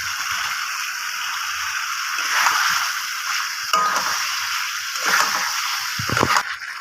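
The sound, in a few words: fried potatoes sautéing in spice masala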